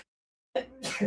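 A single sneeze bursts out suddenly after a short silence, close and fairly loud, with a sharp breathy onset and a throaty tail.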